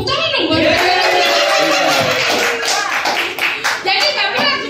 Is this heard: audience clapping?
yes